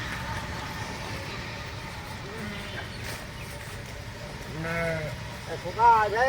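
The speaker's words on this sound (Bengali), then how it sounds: "এই গাড়লগুলো সরাসরি দেখাচ্ছি নাসরুল মিয়ার গাড়লের খামার থেকে" Garole crossbreed sheep on a farm give a couple of wavering bleats near the end, over low background murmur and faint movement noise.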